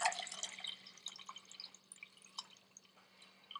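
Water rinsing cooked rice for Persian rice, with a faint, close sequence of irregular drips and trickles over a low steady hum, no talking.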